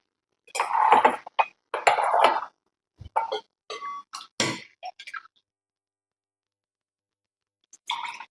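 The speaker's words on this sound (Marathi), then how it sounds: "आता हे ग्लास मध्ये ओतून दाखवते" Thick homemade almond milkshake poured into a glass in a home kitchen: two close gurgling pours, then a few short clinks and knocks against the glass, followed by silence and a final brief clatter.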